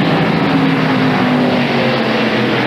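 NASCAR stock cars at the 1997 Save Mart Supermarkets 300, with Darrell Waltrip trying to get past Brett Bodine, make a loud, steady engine drone with a slight waver in pitch and no talk over it.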